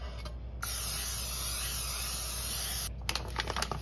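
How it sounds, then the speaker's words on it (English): Canola oil cooking spray hisses steadily onto a baking pan for about two seconds, bracketed by short spritzes and light handling clatter, close and alone with no talk. "if it's not a seasoned pan, to spray it with oil"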